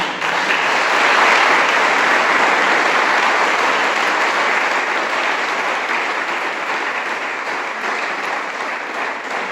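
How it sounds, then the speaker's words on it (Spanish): Steady, dense applause from a church congregation during a sermon, loud and sustained throughout with a slight fade toward the end and no voices over it. "Vamos a darle un aplauso al Señor."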